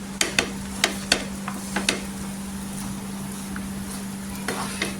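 Kande pohe being stirred in a pan, a few sharp scraping spoon strokes early on, then softer intermittent scrapes over a steady low hum, close and moderately loud, with no talking.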